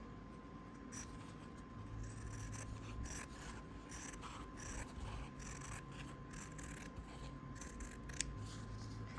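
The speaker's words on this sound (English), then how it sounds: "I'm cutting 1/4 of an inch seam allowance" Scissors snip steadily through fabric while trimming a quarter-inch seam allowance around a freezer-paper appliqué template for a tulip quilt block, a close, continuous run of repeated blade cuts and rasping fabric with no voices.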